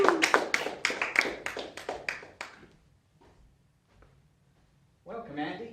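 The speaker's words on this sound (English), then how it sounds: "A round of applause" Clapping from a small audience at a Toastmasters meeting welcoming a volunteer, a quick burst of claps that fades away over a couple of seconds, followed by a short stretch of quiet and then a person starting to speak.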